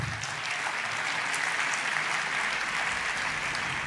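A church congregation applauds continuously and loudly as a tribute to honoured people, a dense, steady wash of many hands clapping from start to finish with no pause.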